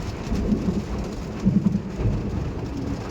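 Steady rainfall on surfaces with low rumbling thunder rolling through, continuous and fairly loud with no voices.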